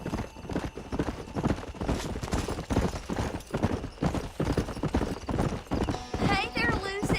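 A horse's hooves clip-clop steadily and close by, heard under ongoing speech and music, with a whinny-like rising tone near the end.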